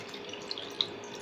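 A cup of boiled milk is poured onto sliced papaya, giving a faint, steady liquid splashing hiss with a couple of small drip-like clicks, close by and otherwise quiet.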